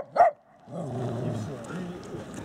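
A single short dog bark rings out near the start, followed by people talking over quiet outdoor background noise.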